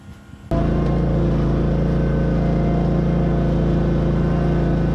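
A Bobcat skid steer engine starts up abruptly and runs at a loud, steady drone nearby while moving the chassis of a 1959 Chevy Apache truck.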